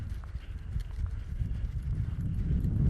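Horse hooves clip-clop at a steady jog during lead-change training in a riding arena, the rhythmic beats fairly close and continuous for a few seconds with no talk over them.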